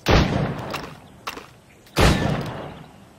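Gunfire at targets in the video game Assassin's Creed Rogue: two loud, booming shots about two seconds apart with long rumbling tails, plus a fainter, sharper crack between them.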